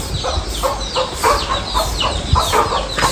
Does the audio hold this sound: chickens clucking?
yes